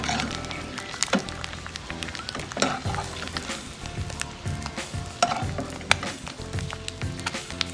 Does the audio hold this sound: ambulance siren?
no